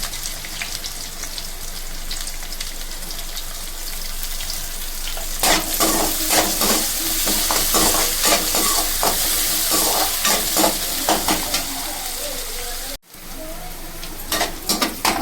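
Onions browning in a hot pan for a beans sabzi, a steady loud sizzle with scraping strokes of stirring that grow busier midway, alone with no talk.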